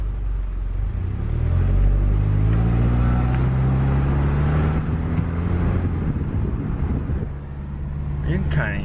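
A car fitted with a Magnaflow performance muffler cruising at a steady 30, giving a low exhaust drone with wind and road rumble from inside the cabin; voices are faintly present.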